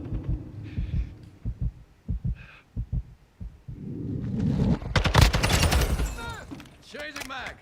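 Incoming gunfire in Call of Duty Modern Warfare II rattles in rapid bursts, building to a loud barrage of cracks, with thumping footsteps and game noise around it.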